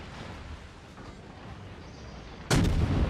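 Anti-aircraft guns of the Baltimore cruiser fire in World of Warships over a steady rumble of battle, ending in a sudden loud, booming blast that keeps roaring, no voices.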